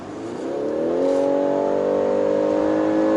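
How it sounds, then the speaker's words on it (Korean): A BMW X3 xDrive 30e SUV engine revs up steadily and holds a loud, low droning growl, close by, with no talking. "엔진 사운드"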